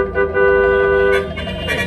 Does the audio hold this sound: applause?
no